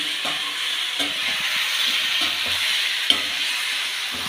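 Turmeric, garam masala and other spices stirred in a frying pan for a homestyle curd curry, a steady sizzle broken by scraping strokes of the spoon, close up, with one sharp clink near the end.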